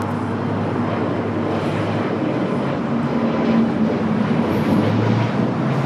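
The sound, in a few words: Airbus A380 taking off at LAX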